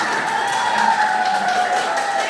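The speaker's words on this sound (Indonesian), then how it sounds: "Tepuk tangan untuk kita semua." Classroom of students applauding and cheering together, a dense continuous wash of clapping with shouts blended in, steady and fairly loud throughout.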